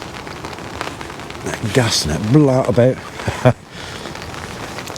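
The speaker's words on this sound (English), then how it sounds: "But here come the rain again." Rain patters steadily on a windy fishing lake at Suffolk Water Park, a soft hiss under someone talking close by through the middle of the clip.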